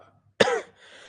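One short, sharp cough close to the microphone, abrupt and alone in a quiet room.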